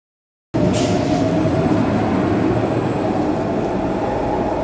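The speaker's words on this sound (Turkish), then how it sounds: "Havaalanı yani Atakoyun'a olan metro şimdi gitmiş bulunmakta." An Istanbul metro train pulls away from the station toward Ataköy and the airport, a steady loud low rumble and rail roar that begins abruptly and holds close and continuous with no talk.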